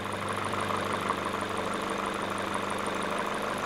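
A car engine idles steadily with a fast, even ticking from its fuel injectors, picked up close through a probe held near one injector.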